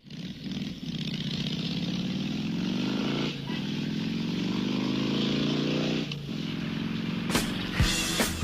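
Motorcycles at the Peçanha Moto Rock rally, one engine revving and rising in pitch in long sustained pulls, loud and close, with brief drops between throttle bursts and a few sharp knocks near the end.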